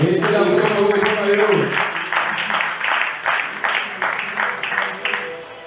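A church congregation at a Pentecost seminary session claps, rhythmic rounds of applause rising over a speaker's voice and continuing as the talk fades.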